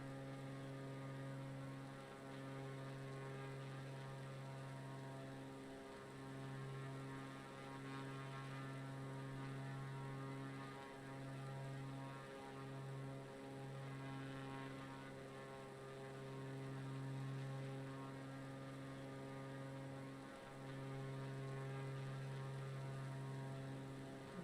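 A propeller airplane's engine in a flight simulator drones as a steady, moderately loud hum with strong low harmonics. It rises and dips slightly in pitch over a long, continuous stretch with no talk.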